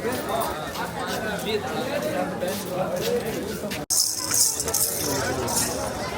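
A busy crowd of people at a Hindu temple in the early morning, a steady hubbub of chatter and footsteps close around, with a brief cut partway through before the babble resumes.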